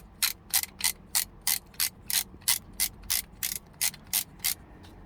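A magnetic car vent mount's ratcheting hook clicks sharply as it is released and expanded, a steady run of about fourteen crisp, evenly spaced ratchet clicks, close and isolated.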